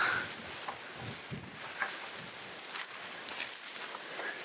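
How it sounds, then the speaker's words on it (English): Gusty wind buffets the microphone outdoors at an abandoned farmhouse, a steady broadband rush with soft rustling and scuffing bumps scattered through it and no voices. "Oh, too much wind there."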